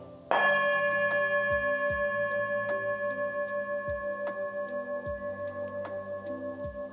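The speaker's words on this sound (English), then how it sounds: "I'm going to signify the beginning of this class with a bell" A single bell strike rings out clearly at the start of a yoga class, its bright tone sustaining and slowly decaying with a faint pulsing shimmer over several seconds in a quiet room.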